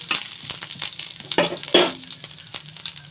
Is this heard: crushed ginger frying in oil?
yes